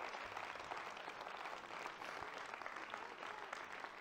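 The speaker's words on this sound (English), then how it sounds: "Give her a round of applause," A live audience keeps up steady, dense applause throughout, a continuous wash of many hands clapping at moderate distance with no talk standing out.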